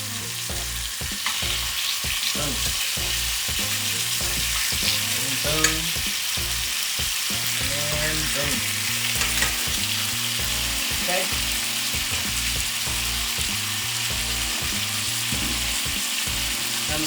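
A piece of oxtail sizzles in hot oil on a raised flame, a steady frying hiss holding throughout with occasional pops and brief stirring or utensil clatter; a short spoken word cuts in near the middle.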